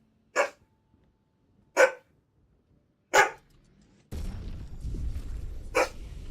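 A pet dog in a home barks three times in sharp, evenly spaced single barks, fairly close and loud, followed by steady background noise with one more bark.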